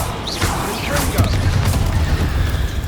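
A Confringo fire curse blast in Hogwarts Legacy during a spider fight, with heavy booms, whooshes and crashes over a constant combat rumble while voices speak.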